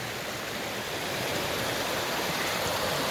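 An overfull creek rushes past near a pump house, a dense, steady hiss of flowing water that holds at an even level throughout with no voices.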